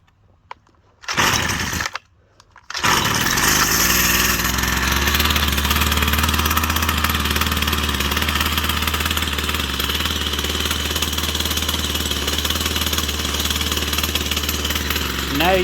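A Husqvarna 122C string trimmer takes two short sputtering pull-start bursts, then catches and settles into a loud, steady, buzzing two-stroke idle close by.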